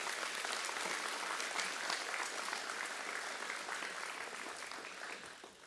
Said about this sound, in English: let's give our graduates a big round of applause for that achievement